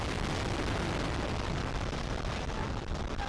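A deep, rumbling roar of a bomb explosion in Baghdad fills the clip, sustained and noisy with low booming energy and no voices.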